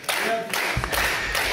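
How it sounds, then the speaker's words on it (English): Wrestling fans clapping at a UK championship match, a brisk mix of hand claps and thuds in a crowd, fairly loud and close with faint voices underneath. "The fans are clapping this match"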